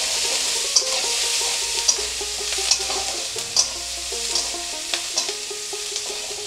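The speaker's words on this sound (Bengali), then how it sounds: "পেঁয়াজটা আমি ভালো করে ভেজে নেব।" Chopped onions fry in oil in a pan for village-style lau pata bata: a steady close sizzle with a spoon scraping and clinking against the pan at regular intervals, over a tonal background.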